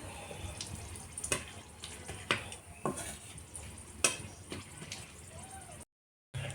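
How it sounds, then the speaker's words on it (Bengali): Bay leaves and dried chillies fry in hot oil as a tempering, a soft sizzle under repeated clinks of a spoon stirring in the pan, ending in a brief silence. "তেজপাতা দুটো শুকনো লঙ্কা ফোড়নটা একটু ভালো মতন"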